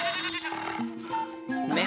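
A cartoon goat bleats in a wavering, nasal cry lasting under two seconds, loud and close, with music and brief voices around it.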